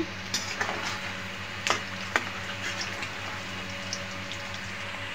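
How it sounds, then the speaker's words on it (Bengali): Dhaka-style beef korma frying in a pan, with a soft continuous sizzle broken by a few sharp scraping clicks as it is stirred. "এতে আমি আরেকটু ভেজে নিব"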